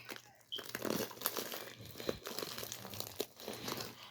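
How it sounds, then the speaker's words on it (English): A package holding plush Scooby Doo figures is cut open with scissors, giving quiet, close crinkling and crunching of plastic wrapping with scattered short snips and rustles. "let's open it with the scissors"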